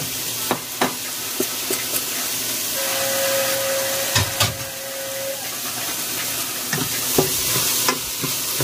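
Potatoes frying in a pan and being stirred, with a steady sizzle under repeated sharp scraping and tapping strokes spaced about a second apart, and a brief thin tone sounding midway.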